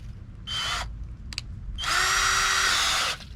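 A power drill spins a dryer vent cleaning rod in short whirring bursts: a brief run, a tiny blip, then a longer sustained whine that stops abruptly, close and clear with no talking.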